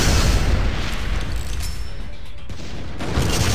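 Missile blasts in the action game Killer 7 come as loud, continuous booming explosions with heavy low rumble and crackling bursts, sustained for a few seconds and dipping briefly before surging again.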